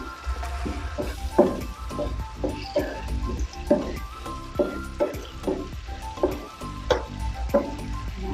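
Salmon belly and soy sauce sizzle in a hot pan while being stirred, a steady frying hiss broken by regular scraping strokes roughly every half second, close and moderately loud.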